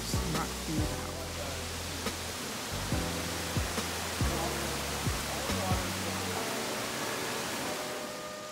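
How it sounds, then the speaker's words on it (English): The waterfall at Fallingwater, where the stream runs over bedrock beneath the house, gives a steady broadband rush of falling water throughout. Several brief, sharp descending tones recur over the constant roar. "You can hear the falling water."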